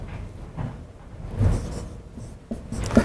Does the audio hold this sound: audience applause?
no